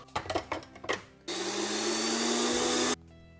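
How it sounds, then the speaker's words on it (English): A dry kitchen blender grinds erythritol sweetener into powder, starting with a few knocks and rattles before a loud, steady motor whir that runs about a second and a half and then cuts off. "I washed my blender, and you need a dry blender, otherwise it's gonna get wet and not powdered."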